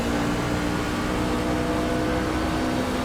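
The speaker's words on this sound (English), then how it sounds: "Kicking up the throttle." NASCAR Class C fixed-setup race car in iRacing at Rockingham, engine droning loud and steady at high throttle throughout, a constant revving roar with a strong tonal hum and no pauses.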